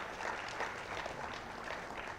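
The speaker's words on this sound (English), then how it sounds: "Please, let's have a round of applause for him." An audience at a national financial literacy quiz event applauds a director joining the stage, with a steady, dense wash of clapping held at an even level for a couple of seconds.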